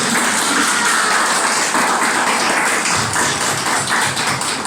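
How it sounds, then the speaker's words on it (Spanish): A church congregation claps together during a sermon about the Holy Spirit, loud sustained applause filling the whole moment, dense and continuous without talk over it. "Denle un aplauso al Espíritu Santo."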